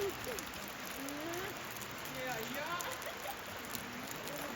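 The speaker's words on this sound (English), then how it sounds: "but it's raining" Light rain patters steadily outdoors near Shulgan-Tash Cave in Bashkortostan, Russia, in a soft, continuous hiss, with faint indistinct voices murmuring in the background.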